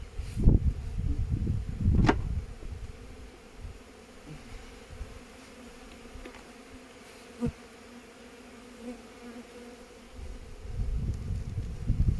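Honey bees buzz during an inspection of a full hive, a steady low drone with a few louder close passes and brief handling knocks near the start and end.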